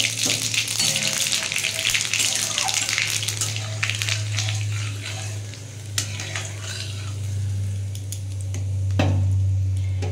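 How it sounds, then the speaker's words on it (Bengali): Dried red chili, bay leaf and white cumin temper in hot oil for a vegetarian cabbage curry, a continuous crackling sizzle with scattered clicks over a low steady hum. "আমি এর মধ্যে একটু শুকনো লঙ্কা, তেজপাতা আর একটু সাদা জিরে ফোড়ন দেবো।"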